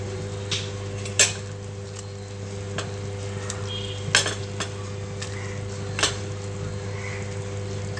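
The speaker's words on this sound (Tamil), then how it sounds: "இப்போ நம்ம எடுத்து வச்சிருக்கிற கத்திரிக்காய் ஆட் பண்ணிடலாம்." Brinjal pieces go into simmering kulambu in a pot, giving scattered clinks and knocks of a utensil against the pot over a steady background hum, with a faint bubbling sizzle and no talk.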